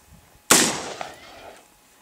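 A single sharp gunshot cracks while shooting at targets outdoors in Montana, its sudden blast trailing off into a fading echo over about a second.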